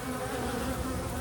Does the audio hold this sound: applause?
no